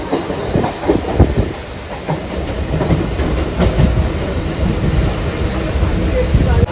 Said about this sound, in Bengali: তো আমরা উঠে গেছি ট্রেনে, আর ট্রেনটা ফাঁকা, সকালের ট্রেন তো ফাঁকাই হয়।